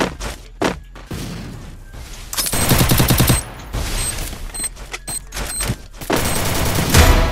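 Grenade blasts and bursts of gunfire in a Counter-Strike-style shooter game, a chaotic run of loud booms and rapid shots, with heavy firefights around two to three and a half seconds and again near seven seconds.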